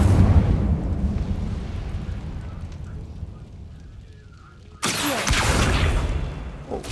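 Incendio fire spell in Hogwarts Legacy erupting with a sudden loud whooshing burst of flame after a fading rumble, the roar sustaining for a couple of seconds.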